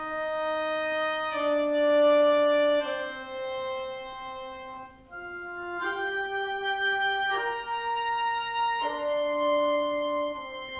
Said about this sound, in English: the bassoon leads a kind of counter melody here